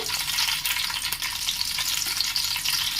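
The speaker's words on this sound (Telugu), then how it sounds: "ఇలా ఆయిల్ హీట్ అయిన తర్వాత ఒక ఆరు పచ్చిమిరకాయల వరకు ఇలా పొడవుగా కట్ చేసుకొని వేసుకున్నాను" Six long-cut green chilies frying in hot oil as the base for a fish curry: a dense, loud, continuous crackling sizzle throughout, with a sharp spatter pop partway through.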